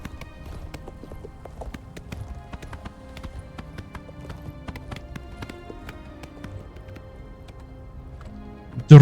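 Horse hooves gallop in the video game Oblivion Remastered along a mountain path, a steady patter of clip-clop beats under a soft ambient bed, ending in a brief loud thump.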